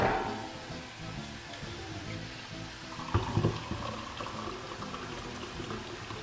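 Regular water is poured into a pot of roasted tomato soup, a soft, steady trickling splash with a brief louder burst partway through, heard close and without talk.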